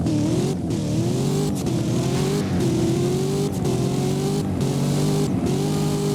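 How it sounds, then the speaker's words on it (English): A Corvette ZR1 in the Driving Empire racing game accelerates hard with a loud, continuous engine note that rises through the gears in repeated climbs, with brief dips at each shift and no talking. "let's actually hear how it sounds when you accelerate."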